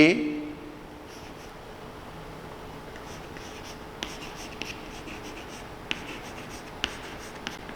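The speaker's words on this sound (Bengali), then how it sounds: "আমি নামটা লিখে দিচ্ছি" Marker or chalk writing a name on a classroom board, faint scratchy strokes with a few small taps, quiet and steady throughout.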